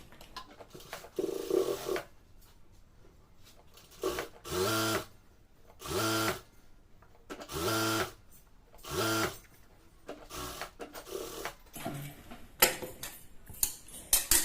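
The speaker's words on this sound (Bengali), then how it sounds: "এই সেলাইয়ের উপর দিয়ে সেলাইটা আমি দিয়ে নিব।" An electric sewing machine stitches a salwar in several short bursts, each a steady whirring hum lasting about a second, with quiet pauses and fabric handling between them and a few small clicks toward the end.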